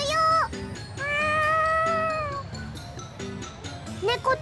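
Cat in the video game Tales of Xillia 2 gives several clear meows: a short one, then a long drawn-out cry, with game music or sound effects between the calls.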